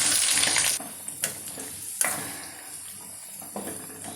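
Boneless chicken with ginger and garlic frying in a pan, a steady close sizzle at first, then fainter hissing broken by a few short stirring scrapes.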